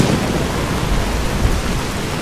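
Steady, dense rain pours across the whole span with a low thunder rumble underneath, a continuous stormy wash in the Nevada skies of the game Fallout: New Vegas.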